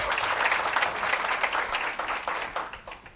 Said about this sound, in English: Just one final round of applause.